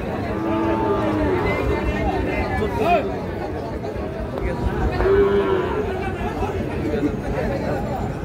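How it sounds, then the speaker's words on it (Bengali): Sahiwal bull calves at a busy cattle market, lowing in several drawn-out moos over a constant crowd babble and nearby talk. "এই যে শাহিওয়াল ষাঁড় বাছুর।"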